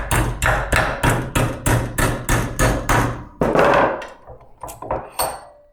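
A flat metal bracket clamped in a Vevor bench vise is hammered into a 90-degree bend: about a dozen loud, evenly spaced metallic blows, then a few scattered lighter knocks.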